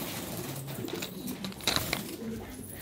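Pigeons coo softly in a loft room, a few low, faint coos over a background of indoor rustling and noise.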